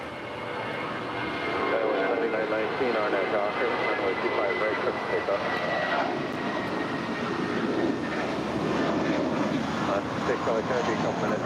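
A heavy Boeing 787 jet takes off from runway 25 at LAX, a loud, steady engine roar building in the first seconds and then holding broad and sustained, with a voice talking faintly underneath.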